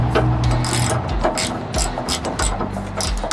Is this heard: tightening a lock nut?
yes